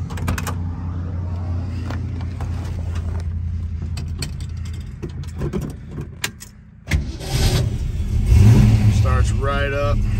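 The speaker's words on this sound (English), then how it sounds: "Let's start it up." A 1967 Shelby GT350 with a V8 and four-speed cranks, then catches and settles into a close, loud rumble, a person talking over the noise.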